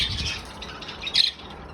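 A young bird squawks in raspy, repeated bursts, with one louder, sharper squawk near the end, fairly close and without talk.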